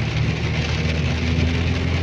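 Steady rain falls continuously in a dense, even hiss with a low rumble underneath and no voices.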